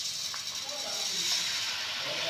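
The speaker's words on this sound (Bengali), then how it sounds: "আর এটাতে আমি 1 কিলো চিনি ঢেলে দিচ্ছি পুরোই।" A kilogram of sugar pours from a packet onto mango pieces, a soft continuous granular hiss running steadily close by for the whole moment.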